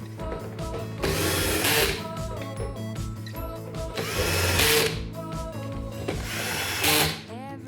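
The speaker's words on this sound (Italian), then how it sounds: "vi ricordo di utilizzare sempre la funzione avvitatore quando si riavvita" A drill driver set to screwdriver mode on low clutch drives screws into the delicate plastic housing of a Folletto VK140 vacuum, giving three loud whirring bursts with ratcheting clicks and brief pauses between them.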